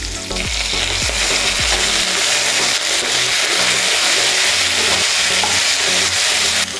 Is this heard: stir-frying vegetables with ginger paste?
yes